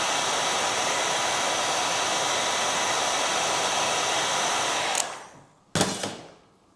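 A heat gun or hair dryer warms a golf club head to free a graphite shaft, blowing a loud steady roar that cuts off, then briefly restarts and stops again.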